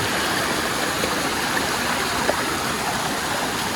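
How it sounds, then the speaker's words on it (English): Steady rushing water gushes from a spring in rock without pause, a dense, close hiss that fills the whole stretch evenly. "this is where the water is actually springing from"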